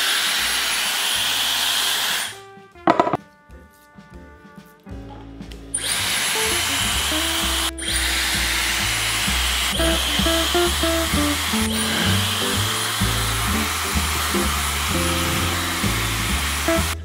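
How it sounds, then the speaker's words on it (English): A hair dryer blowing hair, a loud steady close whine and rush of air that cuts out briefly near the start, then resumes continuously under music, with no talk. "I love blow drying my hair."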